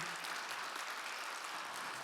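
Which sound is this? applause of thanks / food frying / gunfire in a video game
applause of thanks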